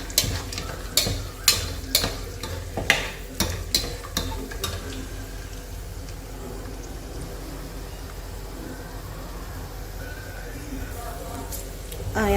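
Whole spices, including cloves, cardamom, marathi moggu and star anise, fry with kasuri methi in a pan for biryani: a run of crisp stirring clicks at first, then a steady close sizzle.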